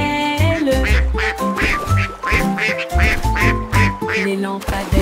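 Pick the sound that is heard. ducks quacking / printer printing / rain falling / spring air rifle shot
ducks quacking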